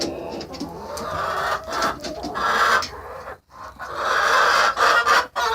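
Chickens cluck and murmur close by in a steady, busy chorus inside a deep-litter coop with a rooster, with soft cooing calls and occasional rustling.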